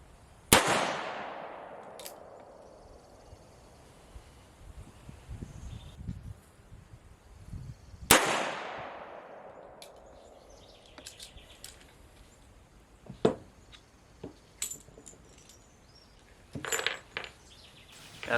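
A Pietta revolver with a .45 ACP conversion cylinder fires polymer-coated bullets loaded with Alliant Bullseye powder: two sharp, loud outdoor shots several seconds apart, each with a long ringing echo, followed by faint clinks and small knocks.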